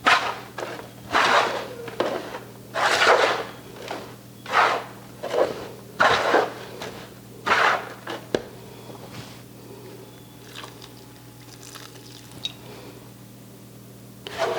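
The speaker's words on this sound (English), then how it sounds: "I'll mix this around." Potting soil mixed by hand with water in a container for starting eucalyptus seeds, giving a series of soft, moist squishing and rustling strokes, close up and rhythmic, before it fades to quiet.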